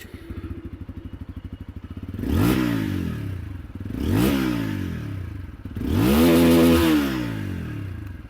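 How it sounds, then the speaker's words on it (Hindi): TVS Apache 160 4V motorcycle with an underbelly exhaust, idling with a steady close thump, then blipped through three sharp revs that rise and fall back to idle. "स्टार्ट करते हैं विद अपाचे 164V, जहाँ पर आप लोग को बुलपअप एग्जॉस्ट देखने को मिलती है।"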